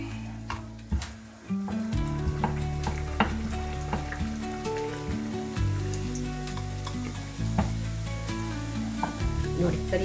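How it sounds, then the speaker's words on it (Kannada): Bhatura dough frying in hot oil, a steady loud sizzle with bubbling crackle throughout, with occasional clinks of a utensil against the pan. "ಇವಾಗ ಬಟೂರ ನನ್ನ ಮಗಳು ಫ್ರೈ ಮಾಡ್ತಾ ಇದ್ದಾಳೆ"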